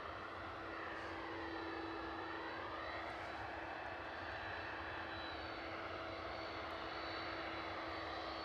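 A WestJet jet airliner rumbles steadily at Edinburgh Airport, a broad continuous engine roar with a faint whine that swells slightly as it turns onto the runway and begins its takeoff run.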